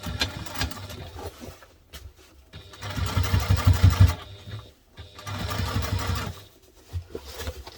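A sewing machine stitches a duffle bag slowly, in two sustained bursts of close, rhythmic whirring with pauses and light handling noise in between.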